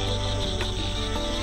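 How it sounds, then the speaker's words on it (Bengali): Crickets chirp in a dense, continuous high-pitched drone on a pitch-dark rural night, an even insect chorus holding steady throughout with no voices. "ঝিঝি পোকার ডাক"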